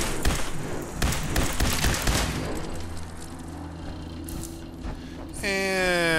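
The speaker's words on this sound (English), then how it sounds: "Guns." Gunfire in Fallout 4: Far Harbor, a rapid volley of sharp, close shots and thuds over the first two seconds. It gives way to a low hum and then a rising electronic whine, with a voice briefly under it.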